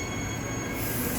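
EMU electric train on the Joondalup line, heard from aboard as a loud, steady high-pitched motor whine and wheel squeal over a continuous rumble, with no talking.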